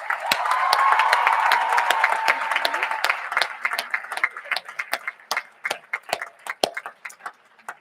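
Audience applause at a school Speech Day prize-giving, dense clapping with a brief cheer at first, then thinning into scattered individual claps as it dies away.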